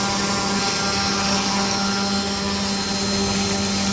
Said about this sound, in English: Remember, the motor hasn't stopped.